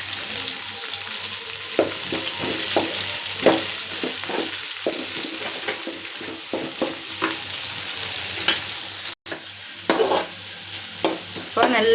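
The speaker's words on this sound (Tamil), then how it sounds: "அடுத்தது வெங்காயம் போட்டுக்கலாம். போட்டு இப்போ நல்லா நம்ம அதை மிக்ஸ் பண்ணி விடணும்." Onions and green chillies fry in hot oil with a steady, close sizzle, broken by repeated scraping and knocking as they are stirred, plus one brief dropout near the end.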